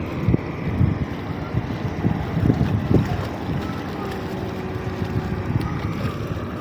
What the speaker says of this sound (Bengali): এটা একটা ছোটোখাটো জাহাজ,